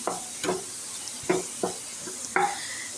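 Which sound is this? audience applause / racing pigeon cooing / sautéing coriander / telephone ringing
sautéing coriander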